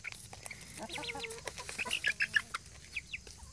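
Chickens cluck in a series of short, sharp calls that grow louder toward the end, over a steady background hiss on a country property kept for beekeeping and comb storage.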